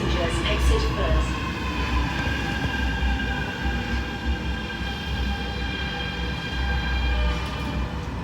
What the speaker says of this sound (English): The train to Admiralty is arriving.